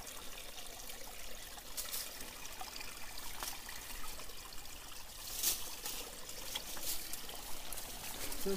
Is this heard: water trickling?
yes